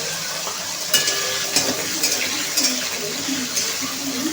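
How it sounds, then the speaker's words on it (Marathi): Cumin seeds and chopped potatoes frying in a pan make a constant hiss, with a few distinct clanks and scrapes of a spoon against the pan roughly every half second to a second. "बटाट्या बरोबरही जिरे फ्राय होतील।"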